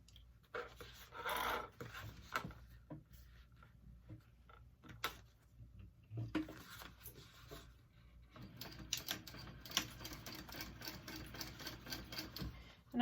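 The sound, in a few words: sewing machine top stitching a handbag seam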